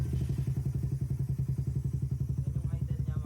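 A Raider 150 Fi motorcycle fitted with a Yoshimura exhaust idles steadily and close up, with a low, even, rapid putter and regular pulses throughout.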